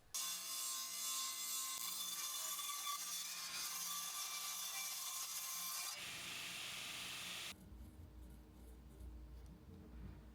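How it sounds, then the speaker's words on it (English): Track saw ripping through a rough white oak board to joint a straight edge, a loud steady whine with dense cutting noise that shifts pitch partway, then the blade spins down into a quieter hum. "one cool thing about the track saw is you can also use it kind of as a jointer to give you that first initial straight edge on the board"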